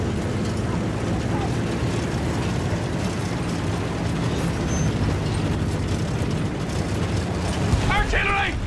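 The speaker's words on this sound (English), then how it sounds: "Artillery!" Artillery shelling in the Battlefield 1 video game: a dense, continuous rumble of distant explosions and battlefield mechanisms, with a voice calling out near the end.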